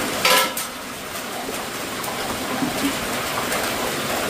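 Rice served from a pot with utensils, metal scraping and clinking with a sharper clatter near the start, then softer continuous scraping and stirring, close and steady, with no talking.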